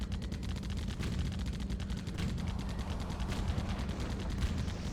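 Enemy ship firing massive side cannons in the video game Blood Wake, a dense, steady rapid barrage of booming shots over a low rumbling background, with no speech.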